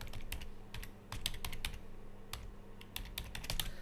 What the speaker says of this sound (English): and then type in the URL.